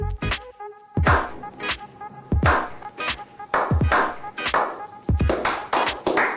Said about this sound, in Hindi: तो इन बंगाली बाबों के लिए थोड़ी सी तालियां बजा देते हैं